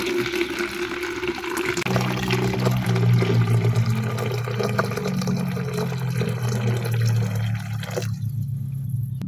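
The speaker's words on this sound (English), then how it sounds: "let me transfer the water onto" Hot water poured from a container onto cloves for clove tea, a steady liquid splash and gurgle lasting several seconds before cutting off near the end, with no talking.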